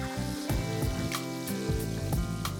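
An egg frying in a pan for a fried egg cheese sandwich, a crackling sizzle with soft popping bursts and a steady background hum, no talk.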